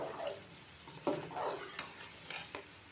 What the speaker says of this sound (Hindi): सब्जियों को अच्छी तरह फ्राई करना है